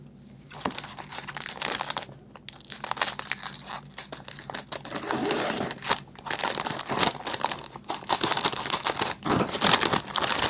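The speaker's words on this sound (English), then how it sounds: "And let's get you open. Scissors required." Plastic packaging of a Meng 1/35 scale Kubelwagen model kit crinkles and crackles in bursts as it is handled and cut open with scissors nearby, with short pauses between the rustling.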